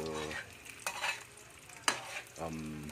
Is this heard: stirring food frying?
yes